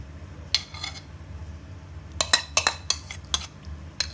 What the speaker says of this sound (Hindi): और अब इसे अच्छी तरह मिक्स कर लेंगे।